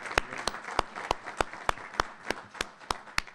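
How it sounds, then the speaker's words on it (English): An audience at a transit organization's plenary session claps in a steady, evenly spaced rhythm, each sharp clap standing out clearly over a soft crowd murmur. "Let's give Gil a round of applause."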